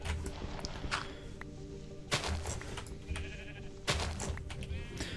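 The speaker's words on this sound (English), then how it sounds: "There's the sheep. I can hear them now." Sheep bleat repeatedly in a Minecraft survival world, several calls rising over a steady layer of game ambience and movement sounds, fairly close and clear.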